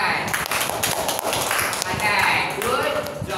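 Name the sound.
classroom children clapping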